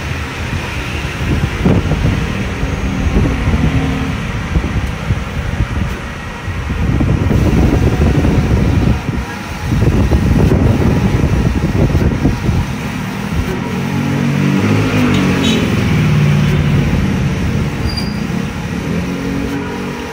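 A large-format tarpaulin printer runs with a loud, continuous mechanical rumble and whir that swells and eases as it works.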